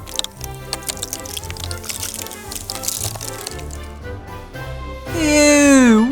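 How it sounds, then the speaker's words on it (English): Water gushing from a water tower into a steam engine's tank, a steady splashing pour that ends in a loud, bending, wailing tone. "I'll just fill up with extra water so we can go even faster"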